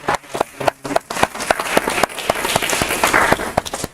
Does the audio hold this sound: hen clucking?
no